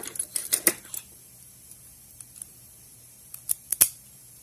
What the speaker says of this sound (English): Let me get the key out so that I don't screw things up too badly here.